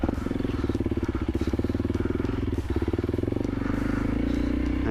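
A 2024 Honda CRF 300L motorcycle runs steadily on a dirt trail, its engine thrumming with a fast, pulsing beat that stays close and loud, with a slight rise in pitch near the end.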